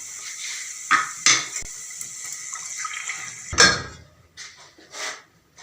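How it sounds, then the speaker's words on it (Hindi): Half a cup of stock poured into a pan of fried garlic and green chilies for chicken Manchurian, giving a few splashing gushes and light clinks of metal, close by with no talk. "अब इसमें हम आधा कप यखनी डालेंगे और इसको पकाएंगे।"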